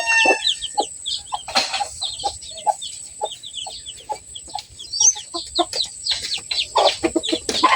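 Chickens clucking steadily close by on a farmyard where chicks have hatched, a busy run of short repeated clucks and chirps that continue without pause, with no talking.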